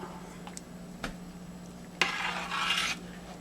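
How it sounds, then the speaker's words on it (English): A spoon stirs smoked chicken chili in a pot, quiet scraping and rubbing with a couple of soft knocks, then a fuller swirl of thick stirring near the end, faint and close, with no talk. "Stir that up."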